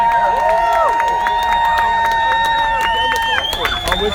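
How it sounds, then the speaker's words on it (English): A crowd at a protest rally against oil drilling on the California coast claps and cheers in a steady wash of noise, with whistles and shouts rising over the applause. "I want to give a big round of applause to everybody that's here today"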